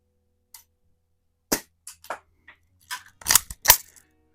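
A Daisy 177 BB gun fires a few sparse, dry clicks and snaps, with a cluster of louder sharp cracks near the end, all close and crisp against silence.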